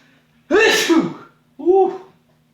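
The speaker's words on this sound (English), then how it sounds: "I feel a sneeze coming on." Two loud, close sneezes burst out in quick succession, the first long and forceful, the second shorter, with near-silence between and after them.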